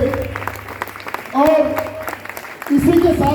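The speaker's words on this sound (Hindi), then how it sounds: "साथ ही साथ में कविता दीदी की जोरदार ताली होनी चाहिए" Audience at a training session in Chhattisgarh breaks into applause, a short burst of clapping that rises near the end while someone speaks over it.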